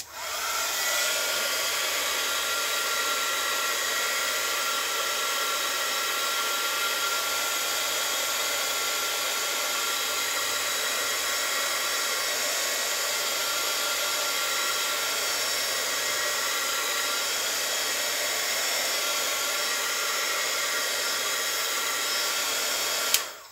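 A hair dryer blows steadily on a handmade Christmas card craft project, a loud, constant airy whir that runs unbroken throughout and cuts off at the very end.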